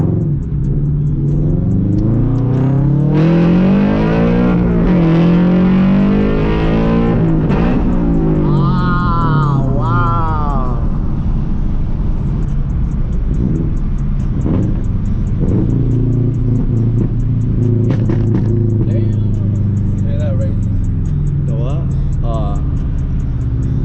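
A Subaru BRZ sports car running on E85 fuel drives along with a steady engine drone and rising revs heard from inside the cabin, with people talking over it throughout.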